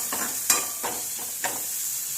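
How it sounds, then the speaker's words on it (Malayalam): Onion, mustard seeds and ponnanganni spinach stir-fried in a pan, a steady hiss of sizzling oil broken by three or four soft scraping strokes of a spoon, close and fairly quiet. "ഇത് സവോളയും കടുക് വറുത്ത് ചീര, പൊന്നാങ്കണ്ണി ചീരയാണ് ഇട്ടങ്ങനെ."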